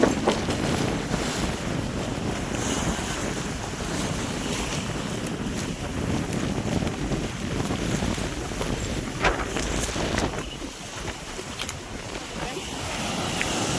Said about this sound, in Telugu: చూసారా వాటర్ ఎంత ఫోర్స్ మీద ఉన్నాయో